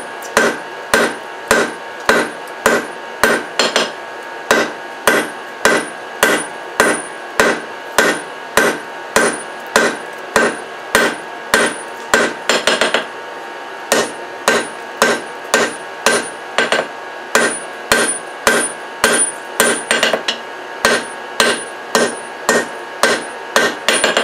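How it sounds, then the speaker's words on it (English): A power hammer fitted with a rounding die beats a hot Damascus steel knife billet near welding heat. Loud, rapid, evenly spaced blows come in two long runs with a brief pause between them. "I'm going to use the rounding die on the hammer for that so it stretches this way and that way."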